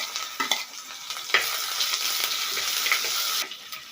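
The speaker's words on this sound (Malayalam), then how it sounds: "ഇഞ്ചിയും വെളുത്തുള്ളിയൊക്കെ നന്നായിട്ട് മൂത്ത് വന്നിട്ടുണ്ട്." Crushed ginger, garlic and curry leaves fry steadily in hot oil, a continuous close sizzle with a few stirring scrapes and brief louder spits, no talking.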